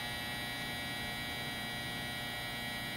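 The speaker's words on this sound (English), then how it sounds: "That's the dryer." Steady low hum of a clothes dryer running indoors, a constant drone with broad noise and no voices, holding evenly throughout.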